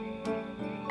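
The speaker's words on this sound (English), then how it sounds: "I remember hearing a frog croak up close." A frog croaks up close in a few separate bursts, each a buzzy, throaty call, fairly quiet with short gaps between them and no other sound around.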